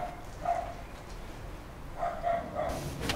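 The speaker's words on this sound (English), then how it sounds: "Dog." A dog barks a few times nearby, a single bark followed by a short cluster of barks, over low background rumble.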